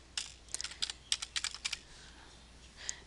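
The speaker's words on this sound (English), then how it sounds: "We're going to type in condé.com." Fast, light key presses on a computer keyboard as a web address is typed into a browser, a quick burst of clicks followed by a pause and one final tap, close and clear with no talking.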